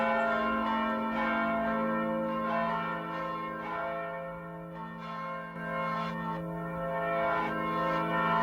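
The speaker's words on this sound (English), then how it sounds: "Somewhere high above my house, I hear the sound of a bell starting to ring." Church bell ringing high above a house, heard as a series of rich, ringing strikes with long overlapping resonance, steady rhythm, moderately distant and fairly quiet, with no talking.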